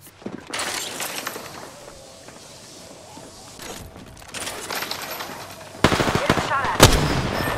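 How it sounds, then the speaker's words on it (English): Bursts of gunfire in a military shooter video game, with sharp shots clustering loudly near the end after a quieter stretch of footsteps and ambient rumble. "Getting shot at. Opening fire."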